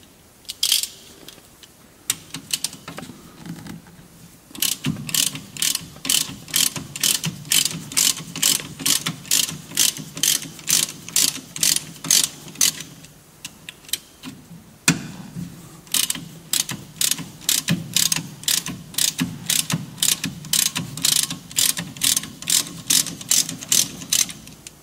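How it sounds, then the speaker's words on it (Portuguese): A ratchet loosens the two brake caliper bolts on a Golf 1 Cabriolet, giving two long runs of rapid, loud, evenly spaced metallic clicks, close up, with a brief pause between them. "Vamos agora aqui desapertar o estribo de travão, nestes dois parafusos aqui."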